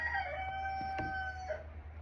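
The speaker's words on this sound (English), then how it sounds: "to be hearing my roosters just out of control" A rooster crows with a long, drawn-out call, fairly close, over a steady low background hum.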